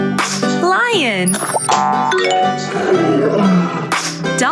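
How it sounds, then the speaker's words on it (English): A lion's roar plays loud and up close, mixed with cartoonish boing and ding effects. "Lion."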